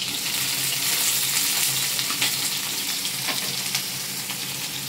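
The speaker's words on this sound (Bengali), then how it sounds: "বেগুনগুলো অল্প তেল দিয়ে এই যে ভেজে নেব" Eggplant pieces frying in a little oil, a close, steady crackling sizzle with occasional louder pops and stirring clatter, holding even throughout.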